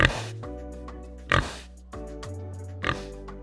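A pig gives three short, grunting oinks spaced about a second and a half apart, close and clear over soft, steady background music.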